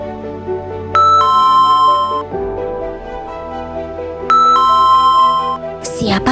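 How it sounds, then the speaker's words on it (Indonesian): A doorbell in the Sakura School Simulator video game sounds a bright two-tone ding-dong twice, several seconds apart, loud and clear over a soft background of game music. "Tapi belnya terus bunyi Pak Re."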